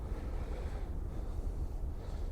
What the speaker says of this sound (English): It's like the angry sea now